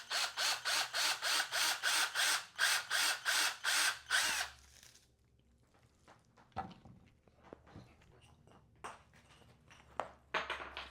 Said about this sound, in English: We're going to simply drill straight through.